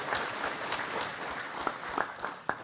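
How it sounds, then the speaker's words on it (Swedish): Audience applause during a lecture on languages by Roger Akelius, fairly quiet and fading, with a few sharp individual claps standing out near the end and faint murmuring beneath. "Ja, det är värt en applåd"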